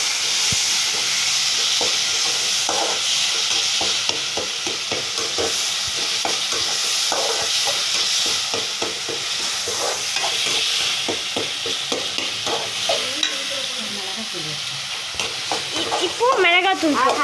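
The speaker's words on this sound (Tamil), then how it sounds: "இப்போ இதையும் நல்லா தேவையாக மிக்ஸ் பண்ணிக்கணும்." Ginger garlic paste being stirred in a hot frying pan for chicken gravy: a loud, continuous sizzle with rhythmic scraping strokes of the spoon running throughout.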